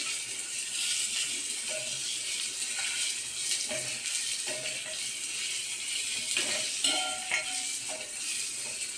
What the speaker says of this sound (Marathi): आता अद्रक लसूण पेस्ट घालूया. थोडी परतून घेऊया.